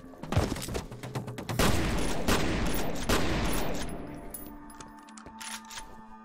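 Gunfire in the shooter game F.E.A.R. bursts out in loud, rapid volleys, several sharp cracks in quick succession that fade into a quieter tail.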